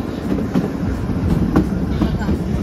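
The Shimla to Kalka toy train running along a mountain track, heard from on board as a steady close rumble with rhythmic clickety-clack of wheels and faint voices under it.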